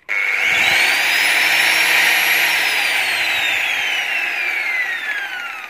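An angle grinder cuts through 10 mm iron bar in a steady, loud, continuous whine with a rising and falling pitch as the disc bites. No voices are heard.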